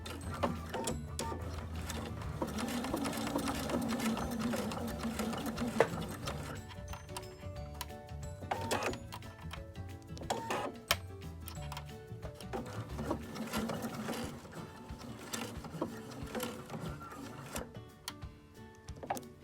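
A sewing machine runs a fixed stitch along a fabric lanyard, its needle mechanism whirring in a steady, close, continuous rhythm for the whole stretch, with slight changes in pace.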